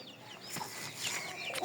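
A 3.5 kg Japanese-Korean crossbred rooster clucks close by, short repeated calls over a bit of background noise.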